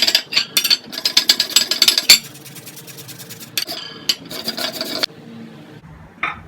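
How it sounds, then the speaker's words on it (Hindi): Raw potato ground in a kitchen grinder for a face mask. Short bursts of rattling, clattering whir stop and start several times, close and fairly loud, then fade to near silence at the end, with no voices. "हम इसे ग्राइंड कर रहे हैं।"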